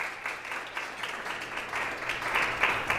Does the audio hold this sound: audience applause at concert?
yes